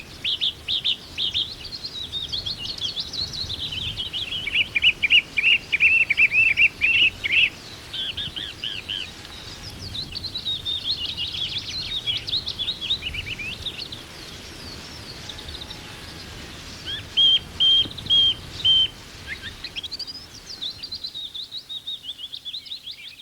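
A songbird repeats high, bright phrases in distinct bursts, each phrase echoed once or twice with short gaps between, clear over a faint outdoor background.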